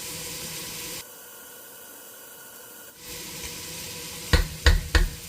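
Grated ginger and onions sizzle in olive oil in a pot, a steady hiss that shifts partway through. Three sharp knocks or scrapes come near the end, and nobody speaks.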